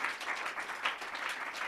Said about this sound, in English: If you can give them on my behalf a big round of applause, please.